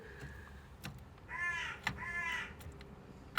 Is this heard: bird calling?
yes